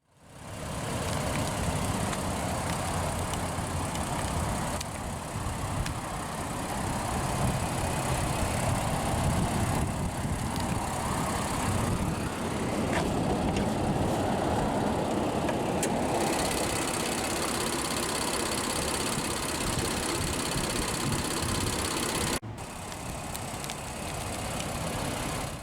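A 2019 Nissan Pathfinder SL 4WD's 3.5-liter VQ35DE dual overhead cam, naturally aspirated direct-injection V6 idles steadily and close up, a continuous even rumble with a brief dip near the end.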